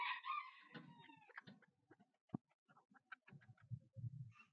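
Bantam (garnisé) chickens on a farm, a rooster crowing at the start followed by a run of clucks and short calls, fairly close and moderately loud with no talking.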